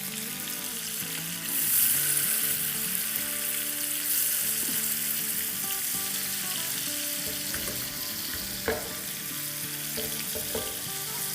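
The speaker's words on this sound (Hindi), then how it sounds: "अब इसको डालेंगे बटर में, 2 मिनट इसे फ्राई करेंगे" Qureshi kababs fry in butter in a pan, giving a steady, close sizzle that swells briefly near the start and runs on without any voices.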